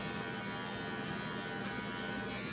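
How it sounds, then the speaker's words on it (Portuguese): An electric hair clipper buzzes steadily during a mohawk blurry-fade haircut, a constant close, faint whine with no pauses or voices. "Eu vim passando a minha máquina para baixo aqui, a fim de criar uma conexão."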